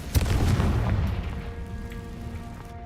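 Confringo fire spell explosion in the video game Hogwarts Legacy, a single deep boom at the start that rumbles and fades away over a few seconds, with no talking.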